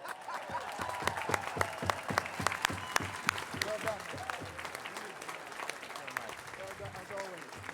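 An audience applauds at a July 4th dramatic reading at the National Archives, with sharp claps ringing out that thin to a scattered patter. A voice speaks over the clapping.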